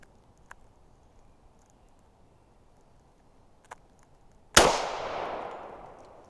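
A single sharp, loud gunshot from a 10mm pistol firing a hot Norma load cracks out after a few faint ticks, followed by a long echoing outdoor decay.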